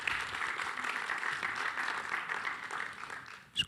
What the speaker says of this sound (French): Je crois que les applaudissements spontanés disent l'intérêt du propos.